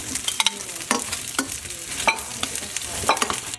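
A clove of garlic sizzling in a pan for pepper steak, a close, steady frying hiss broken by sharp scraping clicks from stirring.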